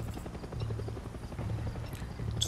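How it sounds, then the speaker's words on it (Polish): Rapid, rhythmic thumping of helicopter rotor blades in the video game Far Cry 6, a steady chop at moderate volume with no talking. "Ten helikopter mnie drażni strasznie"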